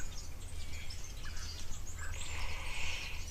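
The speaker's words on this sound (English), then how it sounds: "I can hear some grey go-away birds going." Grey go-away birds call at a South African waterhole, scattered faint chirps and calls drifting in from a distance over a low steady rumble of outdoor background noise.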